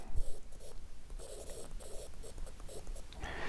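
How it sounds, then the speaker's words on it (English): S Pen stylus writing a note on a Galaxy S22 Ultra screen, a soft scratchy tapping in short bursts of strokes, close and fairly quiet, with no talking. "you can pull that out and write your note"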